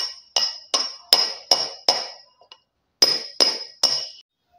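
A hammer strikes repeatedly at the start of a Motorola Edge 40 Neo phone unboxing: nine sharp, ringing blows with a bright metallic clink, close and loud, in a run of six and then three after a short pause.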